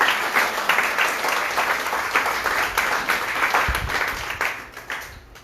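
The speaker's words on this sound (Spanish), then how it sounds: "si le dan un aplauso al Señor" A church congregation applauds in a dense, steady round of clapping that fills the room, then tapers off toward the end.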